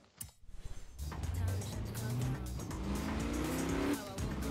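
Forza Horizon 3 car driving on a left-hand-traffic road: a revving engine climbs through rising gear pitches after a quick stuttering start, with faint tire noise, sounding close and fairly quiet.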